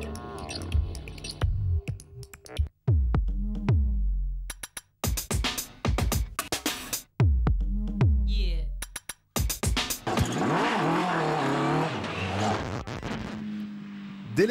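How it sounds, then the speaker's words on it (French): Mitjet race car powered by a 150 hp Yamaha XJR 1300 engine, driven on a circuit, revving and accelerating in repeated loud surges, with gear-change gaps, ending in a sustained roar. "la midget est propulsée par un moteur de Yamaha XJR 1300 développant 150 chevaux"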